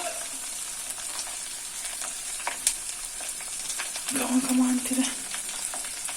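Betel leaves and garlic frying in homemade ghee in a pan, a steady close sizzle that swells louder for about a second near the end as the pieces hit the hot fat, with faint stirring scrapes throughout.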